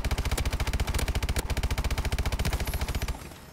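Rapid automatic gunfire from the video game Call of Duty: Advanced Warfare comes as one loud, evenly spaced burst of shots lasting about three seconds, then cuts off abruptly. No voices are heard.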